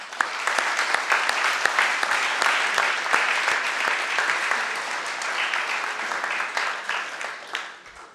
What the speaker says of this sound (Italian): vi chiedo un applauso per questo.